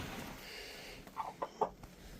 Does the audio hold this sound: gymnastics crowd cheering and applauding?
no